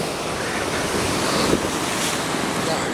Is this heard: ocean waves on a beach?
yes